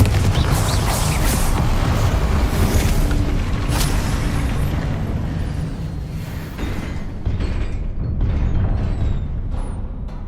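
Confringo spell blasts in Hogwarts Legacy: a sustained series of heavy explosive booms and bursts, loud and close, rolling into one another with slight dips in intensity.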